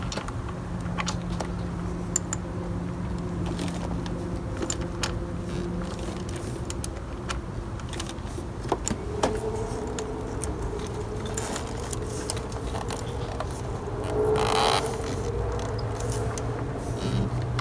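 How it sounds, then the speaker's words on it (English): Faint metallic ticks and clicks of a quarter-inch wrench tightening a bolt on a V6 Toyota Camry engine during a cylinder 3 coil replacement, with short irregular ratcheting taps over a low idle-like hum. "he's going to go ahead and tighten it with his quarter-inch wrench"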